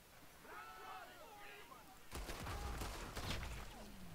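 Enemy gunfire in a video game, a sudden volley of rapid cracking shots that begins partway through and continues to the end. Before it, voices talk over a quiet background.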